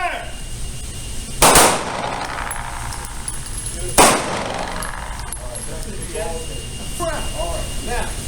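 Two sharp pistol shots crack about two and a half seconds apart during firing practice for police wives. Each is loud and abrupt with a short ringing tail, and people talk afterward.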